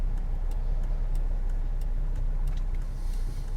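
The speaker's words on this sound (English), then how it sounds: "I want to go right, so I'll put my indicators on." Car turn indicator ticking at a steady rhythm, quiet and close inside the cabin, over a continuous low engine and road hum while driving around Dover.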